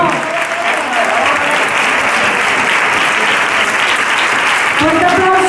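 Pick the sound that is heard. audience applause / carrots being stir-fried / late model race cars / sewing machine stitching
audience applause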